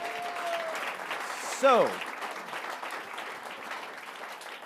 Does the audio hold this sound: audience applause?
yes